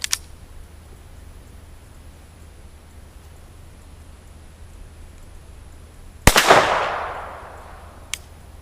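A single sharp .22 LR shot from a Winchester round fired in a Ruger Mark III pistol toward a grill outdoors, a loud crack with a trailing decay after a long quiet stretch, followed by a faint click.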